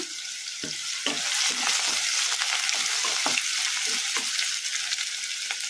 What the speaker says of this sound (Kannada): ಇದಕ್ಕೆ ನಾವು ಕಟ್ ಮಾಡಿ ಇಟ್ಕೊಂಡಿದ್ವಲ್ಲ ಉಳ್ಳಾಗಡ್ಡಿ ಹಸಿಮೆಣಸಿನ್ಕಾಯಿ, ಇದನ್ನು ಹಾಕೋಣ